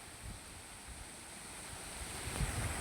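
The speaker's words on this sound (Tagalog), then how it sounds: "Ang lakas pati ng hangin dito guys." Strong wind on a mountain buffets the microphone with a constant rushing hiss and low rumbling gusts, growing a bit louder near the end.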